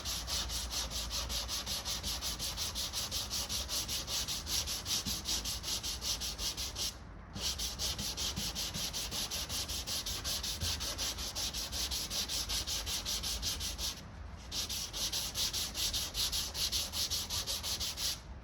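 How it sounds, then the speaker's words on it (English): A car bumper being hand sanded next to masking tape, with steady, close, loud rasping strokes running continuously and only two brief pauses, and no voices. "on this case I'm going to sand away from it. Just so I don't rip the tape."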